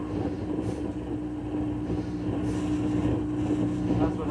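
A car with a throaty engine drives along a back road with the windows rolled down, giving a steady low rumble mixed with constant wind rush, and someone talks faintly over it.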